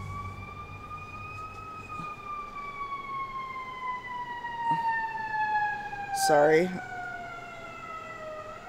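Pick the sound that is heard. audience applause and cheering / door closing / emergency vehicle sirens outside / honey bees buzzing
emergency vehicle sirens outside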